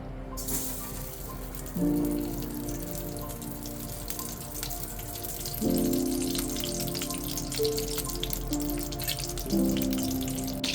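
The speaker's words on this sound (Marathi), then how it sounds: "पहिलं तूप टाकायचं, अर्धा वाटी तूप घेतलेले ते टाकायचं." Half a cup of ghee heating in a pan for semolina sheera gives off a steady, fine crackling sizzle with scattered pops. It runs continuously at moderate volume under sustained tonal background sounds, with no talking.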